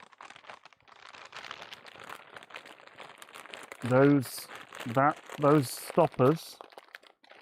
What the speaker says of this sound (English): Sorry for the noise, but I am trying to now dig into the bag of zip ties